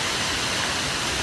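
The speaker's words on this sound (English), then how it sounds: "The big waterfall" A big roadside waterfall pours with steady, dense broadband rushing, loud and constant from near, with no voices.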